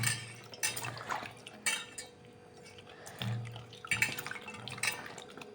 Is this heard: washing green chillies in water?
yes